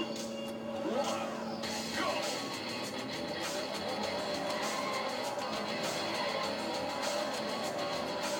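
A McLaren F1 engine drones and revs in the racing game Need for Speed II SE on the proving grounds track, a steady synthetic engine tone with pitch sweeps that sits under a bed of game music.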